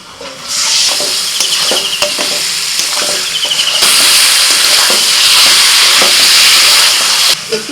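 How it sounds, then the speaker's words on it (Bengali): Mutton goes into frying onions with Kashmiri chili powder in a pan, raising a loud, bright sizzle that swells and stays intense, broken by the scrape and clatter of stirring. "পেঁয়াজটা একটু ভেজে নিয়ে কাশ্মীর লঙ্কা গুঁড়ো দিয়ে দিচ্ছি দু চামচ এবার খাসির মাংসটা দিয়ে দিচ্ছি"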